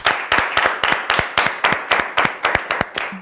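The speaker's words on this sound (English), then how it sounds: "Let's give them a round of applause." Rhythmic group clapping for a team on a school quiz show, a steady beat of sharp, close claps, several hands in unison repeating about four times per second.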